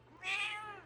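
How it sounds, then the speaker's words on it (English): A house cat gives a single drawn-out meow, clear and close, rising and then trailing off, with no talking over it. "if you hear meowing, it is probably her."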